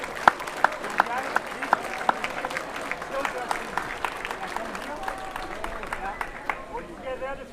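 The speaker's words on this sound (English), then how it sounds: "Give a big round of applause for the medalist in the women's double scull." Scattered crowd applause at a junior international rowing regatta medal ceremony for the women's double scull, with sparse, uneven claps and crowd murmur underneath, fairly distant and moderate in loudness.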